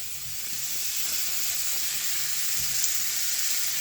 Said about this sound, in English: We're going to add in our smoked sausage.